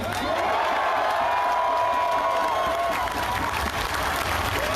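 A large crowd at an evening street rally applauds and cheers continuously, a dense steady roar of clapping with whoops rising through it, loud and close throughout.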